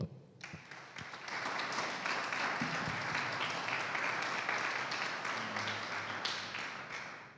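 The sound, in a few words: church congregation applause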